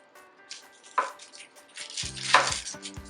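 A kitchen knife chops onion on a board while preparing a meal omelette, giving a few sharp, close cuts spaced irregularly, with soft handling noises between them and no voices.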